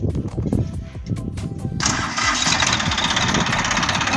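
A Chetak tractor engine with a turbo whistle fitted to its silencer cranks and catches. Rough mechanical clatter turns into a loud, steady running roar with a bright hissing edge, heard close up.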